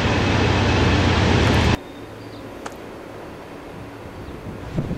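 A loud, close train roars past on railroad tracks running along a creek, a dense rumble that cuts off abruptly partway through, leaving quieter outdoor background with a couple of small knocks.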